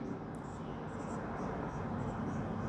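Chalk or marker scratching steadily across a board during a Class 8 maths lesson, close and continuous for a few seconds with no speech over it.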